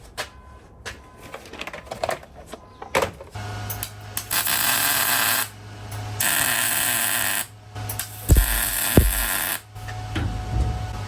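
An old welder welding supports onto a truck frame during a Crown Vic frame swap, with bursts of steady crackling arc sound separated by short pauses, close and fairly loud, plus a few clanks.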